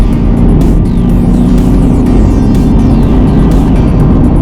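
A Ford Mustang's engine drones loudly and steadily from inside the car as it drives, its note shifting as gears change down, under constant road rumble.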